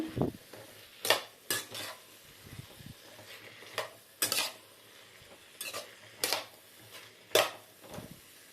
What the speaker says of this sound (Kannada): ಅಚ್ಚಿ ಇಟ್ಕೊಂಡಂತಹ ಬದನೆಕಾಯಿನ ನಾನಿವಾಗ ಹಾಕ್ಕೊಳ್ತಾ ಇದ್ದೀನಿ ನೀಟಾಗಿ ಮಿಕ್ಸ್ ಮಾಡ್ಕೊಳ್ಳೋಣ